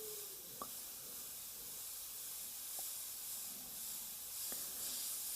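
A T3 Grafo airbrush sprays paint with a faint, steady hiss that runs throughout, broken by a few tiny clicks.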